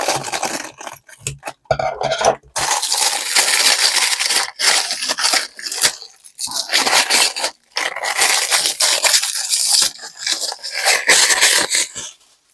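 Crinkly wrapping foil and cake-baking release paper being handled and unwrapped, a loud, near, continuous crackling and scraping with brief pauses, no talk.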